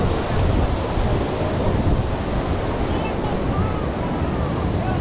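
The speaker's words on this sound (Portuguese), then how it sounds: "No final aqui já é uma área mais com o mar um pouquinho mais bravo já." Rough sea waves crashing at Praia do Francês beach in Marechal Deodoro, Alagoas, a steady loud roar of surf with wind buffeting the microphone throughout.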